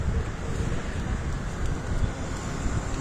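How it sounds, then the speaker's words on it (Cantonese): Strong wind buffets a microphone outdoors, a loud, steady low rumble and roar with gusty swells across the whole stretch, no talking. "咩呢次大風"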